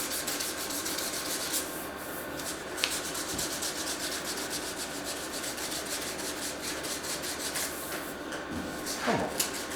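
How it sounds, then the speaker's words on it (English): Hand sandpaper rubbing across a car body panel in steady back-and-forth strokes, with light pressure, close and continuous, with a few faint knocks. "not pressing very hard, just allowing the paper to do the work without putting any scratches or dents in it"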